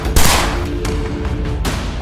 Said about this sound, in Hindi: तभी गोली चली।